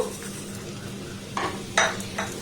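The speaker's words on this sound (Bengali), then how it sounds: "গ্যাসের ফ্লেমটাকে লো রেখে এটাকে এইভাবে কিন্তু কন্টিনিউ নাড়াচাড়া করতে হবে।" A spoon stirs sabudana and sugar in a pan over a low gas flame, a quiet steady scraping with a few sharper clinks of metal near the end.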